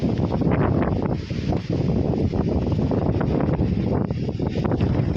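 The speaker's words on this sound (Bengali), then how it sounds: "তুমুল হাওয়া দিচ্ছে" Strong wind gusting across Parasnath Hill in Jharkhand under cloud and rain, a loud, continuous broadband roar with buffeting against the microphone, dipping briefly before surging again.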